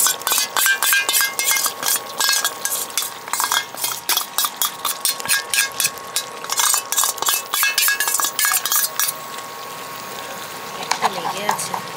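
Poppy seed and almond paste tipped into a pan of chicken, with repeated clinks and scrapes of a utensil against the pan over a steady sizzle, the scraping easing off near the end.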